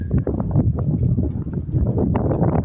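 Strong outdoor wind in Kanab, Utah buffets the microphone in loud, steady low rumbling gusts that fill the whole stretch, with no voices over it.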